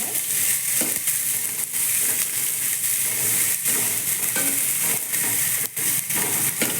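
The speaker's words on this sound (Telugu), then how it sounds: "ఇలా ఫ్రై చేసుకోవాలండి." Chicken pieces fry in a hot pan for a chicken soup, giving a steady, loud sizzle with crackling pops and occasional stirring scrapes throughout, with no talking.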